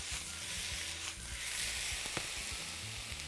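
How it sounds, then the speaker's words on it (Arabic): Marinated chicken breast grills in a hot pan, a steady close hissing sizzle with faint crackles and a few soft pops, heard alone with no talk. "عم نشوي هالدجاجات إحنا هسا"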